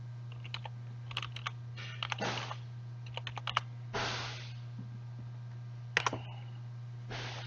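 Bursts of typing on a computer keyboard, soft clicks and clustered keystrokes with short pauses between, set over a quiet steady electrical hum in an indoor room.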